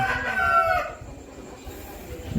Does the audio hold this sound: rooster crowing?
yes